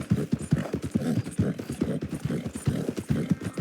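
Horse hooves gallop in Red Dead Online during a race from McFarland's Ranch to Tumbleweed: a quick, rhythmic clip-clop of hoofbeats pounding in a steady repeating pattern at moderate volume.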